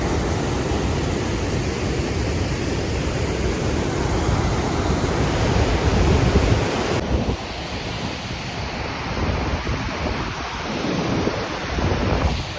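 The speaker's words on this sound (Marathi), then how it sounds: "पाणी लय बेकार फुटलंय लय बेकार" Water released from a dam surges past in a loud, continuous roar with gusty wind noise, shifting slightly partway through, with no voices.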